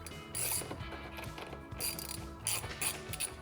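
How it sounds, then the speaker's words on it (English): A ratchet fitted with a T40 Torx bit tightens screws on a 2018-2021 Jeep JL Bestop Supertop twill soft top, giving close, repeated bursts of sharp mechanical clicking with brief pauses between strokes. "We're gonna go ahead and tighten these down as well using a T40 Torx bit."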